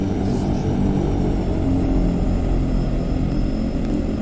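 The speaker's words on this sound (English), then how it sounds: "As you can see, it's a twin engine military aircraft." Twin propeller engines of an OV-10 Bronco military aircraft in a VR flight video game, a steady loud droning hum holding constant throughout without a break.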